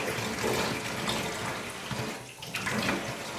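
Hot water from a tap splashes steadily onto a foamboard sheet to soak off its paper facing, a continuous close hiss of running water with no talking.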